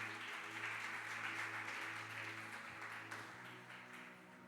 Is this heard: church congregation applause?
yes